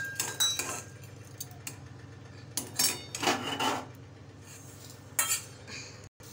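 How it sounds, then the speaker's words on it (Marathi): Roasted chana dal is scraped and tipped from a pan into a wide plate (parat) while making chakli bhajani, giving several bursts of metallic scraping and clinking separated by brief quiet gaps. "आता मी गॅस काढत आहे आणि परातीत काढून घेत आहे।"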